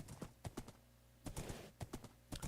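Horse hooves clip-clopping in Minecraft, a quick irregular run of crisp clicks in small clusters, faint and close, with no voices.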